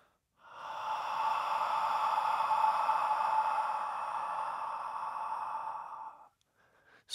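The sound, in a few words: whispered heart sound exhalation from a Healing Sounds breathing exercise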